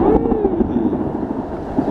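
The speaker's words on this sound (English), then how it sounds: "Now we're starting to get the wind." Strong wind from the north, arriving ahead of a storm, rushes and buffets a microphone outdoors in a steady, loud roar.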